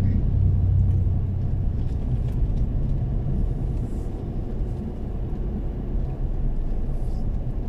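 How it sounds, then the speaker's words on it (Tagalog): A large truck passing on the Dalton Pass mountain road in Santa Fe, Nueva Vizcaya, heard as a loud, close, steady engine rumble that eases slightly and then holds, with no talk. "Ang laki ng truck."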